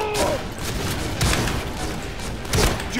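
Gunfire from a high-capacity gun in the online shooter Point Blank comes in loud, repeated bursts with heavy booming thumps beneath them, filling the whole stretch at close range.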